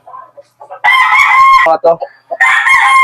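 A loud rooster, a gamefowl on a game farm, crows nearby with a long, strained cock-a-doodle-doo, followed by short clucks and a second crow.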